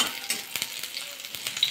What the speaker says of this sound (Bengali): হালকা একটু নাড়াচাড়া করে একটু ভাজা করে নেবো রসুন আর আদাটা